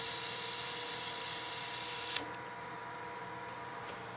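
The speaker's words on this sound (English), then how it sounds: "So we'll just lightly sand that with some 320" Stabilized material on a turned pizza cutter handle spins on a lathe under light sanding with 320 grit, a broad steady hiss that cuts off abruptly partway through, leaving a softer motor hum.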